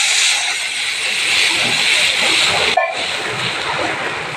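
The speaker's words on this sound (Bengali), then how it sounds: "এবার আমি জল দিয়ে দেবো।" Water poured into a pan of onions fried until reddish, giving a loud, continuous steamy hiss that holds steady, broken by one brief knock near the end.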